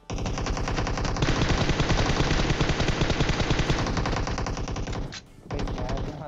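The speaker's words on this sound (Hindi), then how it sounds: "न जाने कितनी सारी गोली चलाने के बाद" Sustained rapid automatic gunfire rattles loudly and continuously in PUBG Mobile, with a brief drop near the end before the shooting resumes.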